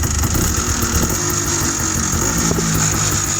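A 1980s machine's engine idles steadily, a continuous low rumbling churn that holds an even level throughout, close by and with no talk.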